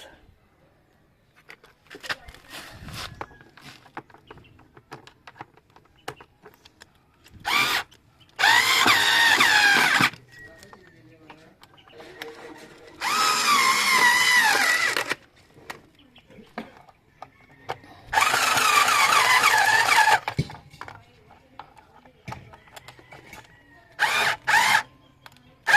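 A cordless power tool tightens the bolts on an aftermarket air filter fitted to a Yamaha Mio Gear 125 scooter, in three loud bursts of buzzing with short zips and ratchet clicks between them.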